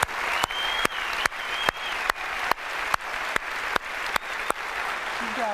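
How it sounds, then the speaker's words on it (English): Keynote audience at Macworld 2008 in San Francisco applauding in a steady roar, with sharp clap peaks recurring in an even rhythm about twice a second throughout. "Let's give them a round of applause."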